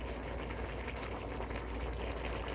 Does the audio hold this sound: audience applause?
no